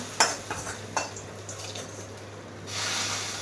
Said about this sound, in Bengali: এই যে এবার আমি বাগার দিয়ে দিতেছি